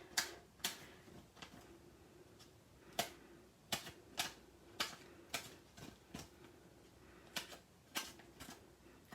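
Crisp, quiet snips of scissors cutting paper pieces for a Stampin' Up card, about a dozen sharp clicks in an uneven rhythm, close by with no talking.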